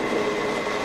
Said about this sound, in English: some more drilling.